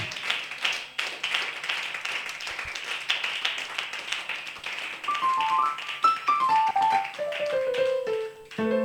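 Worshippers in a church clap along in acclaim of the Lord, producing quick, steady rhythmic claps and taps, with a melodic line sliding downward near the end.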